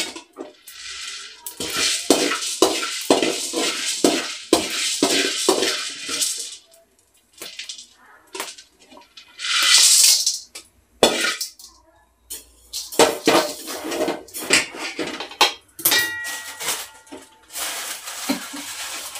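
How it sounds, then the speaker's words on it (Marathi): Wheat grains dry-roasting in a pan for chakli flour, giving repeated rattling, clattering bursts of grain and utensil scraping with quiet gaps, close and fairly loud, no voices. "गहू उडले पाहिजे असं भाजायचं."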